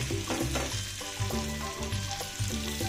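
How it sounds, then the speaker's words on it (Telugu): Stuffed brinjals (eggplants) with coconut masala frying in a little oil in a pan, stirred with soft, rhythmic scrapes and clinks over a continuous close sizzle, without any talking. "కదలకుండా ఈ మసాలా అనేది బయటకు రాకుండా కదిలించుకోండి వంకాయని జాగ్రత్తగా."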